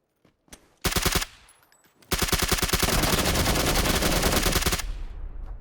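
Automatic gunfire from the video game PUBG on Xbox One: a short rapid burst, then a longer sustained burst of fast, evenly spaced shots, loud and close, with no talk over it.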